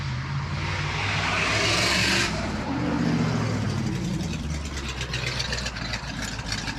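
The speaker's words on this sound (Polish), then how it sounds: "Dobra, auto, dobra. No, ładnie mruczy. Ładnie zamruczało." A parked car's engine idles with a steady low purr, continuous and close, with brief wind or rustle noise early on and no talking.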